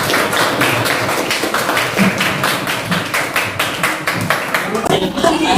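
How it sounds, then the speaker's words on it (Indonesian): Audience clapping breaks out at an event, a run of fairly loud, quick, slightly uneven claps from a small group close by, continuing without pause. "Oke, tepuk tangan."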